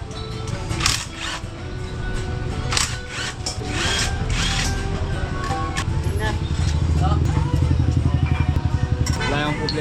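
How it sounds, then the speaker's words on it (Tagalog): Rapid mechanical ratcheting and tool clatter close by as a Yamaha NMAX scooter's exhaust is removed to reach a broken bolt, with a steady engine-like rumble and someone talking over the work. "tanggalin muna natin yung tambutso para makita natin yung kanyang bolt na naputol"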